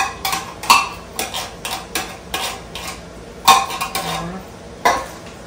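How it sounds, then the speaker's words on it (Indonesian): A utensil stirs and scrapes food in a cooking pan, giving a series of irregular clinks and knocks against the metal over a faint background hum, close and fairly loud. "kita aduk"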